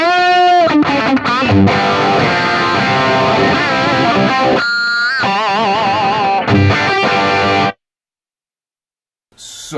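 Heavily distorted electric guitar through an Axe-Fx III Marshall amp model cranked to full, playing loud sustained chords and notes with a saturated, screaming tone, then stopping abruptly into silence before a brief final hit.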